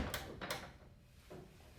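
A couple of quick latching clunks as a third-generation Chevrolet Camaro's door shuts firmly, followed by a softer knock, with no talking.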